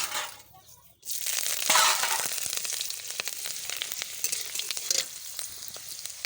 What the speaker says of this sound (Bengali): কড়া গরম হয়ে যাচ্ছে আর লঙ্কাটা আমি দিয়ে দেবো